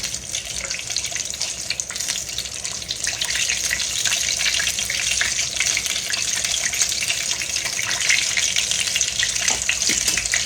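Steady hissing sizzle of food frying in a pan, continuous and fairly loud throughout with faint crackles.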